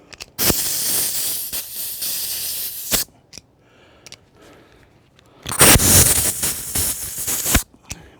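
Compressed air blasts from an air hose fitted to a BMW K1200R Sport coolant system, two loud, steady hissing bursts a few seconds each, separated by a quieter gap with small clicks and handling noises.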